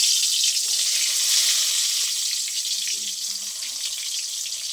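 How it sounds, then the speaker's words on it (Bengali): Eggplant slices rubbed with salt and turmeric fry in hot oil, giving a loud, steady, close hiss that fades slightly over a few seconds. "তেলটা গরম হয়ে গেছে, এবার বেগুনগুলো আমি ভেজে নেব।"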